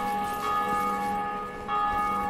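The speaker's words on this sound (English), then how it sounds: "Did someone just ring the bell?" A church bell in the video game Dark Souls rings out in a sustained, resonant metallic tone, with a second strike swelling near the end over the lingering hum, loud and alone.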